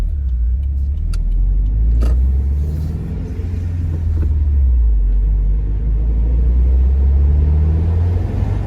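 A 2018 Subaru WRX with a manual gearbox driving on the road, with a steady low engine drone and road rumble heard from inside the cabin and a few faint clicks above it.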